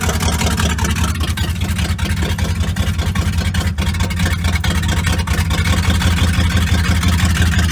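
An Oldsmobile Cutlass engine runs loudly and roughly at close range, a dense continuous rumble with steady low throb, as it is slowly put into gear; no voices.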